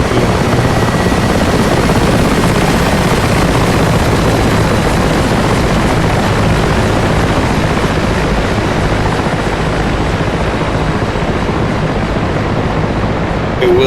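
Mi-8 helicopter flying in the DCS World video game, a loud, steady rotor and turbine roar that fills the whole stretch without a break.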